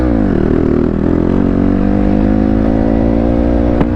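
A gas dirt bike's engine drones loudly and steadily while riding off-road, its pitch shifting as the throttle changes, with a brief sharp knock near the end.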